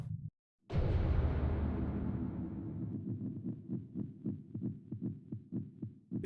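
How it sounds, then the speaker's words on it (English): A heartbeat from the video game Robotics;Note Elite comes in after a short gap with a loud low boom, then turns into a rapid, regular run of deep thumps. "Yeah, no part of that heartbeat sounds good."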